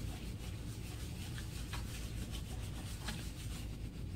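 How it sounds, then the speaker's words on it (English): Wooden spoon used as a baren, its flat side rubbed in even circular passes over paper laid on an inked printing plate for a two-colour print, giving a soft continuous scraping hiss with faint repeated strokes. "I'm just gonna rub over the plate using the flat side of the spoon"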